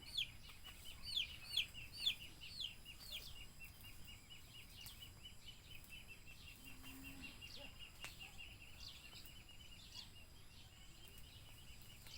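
Chickens clucking in a vegetable garden, several short calls in a quick cluster early on, then softer scattered clucks over steady outdoor background noise.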